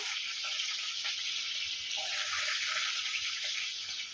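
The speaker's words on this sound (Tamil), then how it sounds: "இப்போ இதில் நம்ம வெங்காயம் சேர்த்துக்கலாம்." Whole small shallots sizzling in hot oil with mustard and fenugreek seeds, a steady, faint hiss with light crackles throughout.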